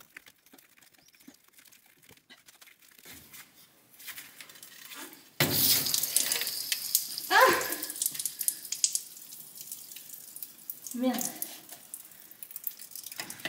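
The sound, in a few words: water splashing from a pipe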